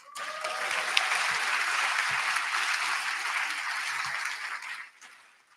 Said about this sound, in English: maybe that deserves an applause